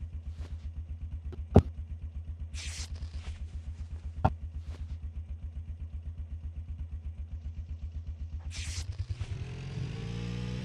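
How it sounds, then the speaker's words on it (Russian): Motorcycle engine in PUBG Mobile idling with a steady low putter, a couple of sharp clicks and brief hiss bursts over it, then revving up louder at the end. "Что ты на мотоцикле поедешь?"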